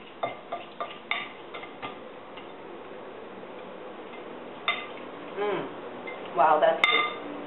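Spoon stirring through a thick Mediterranean eggplant spread in a bowl, a few soft scraping clicks at the start and then light intermittent clinks, close and quiet, with brief talk partway through.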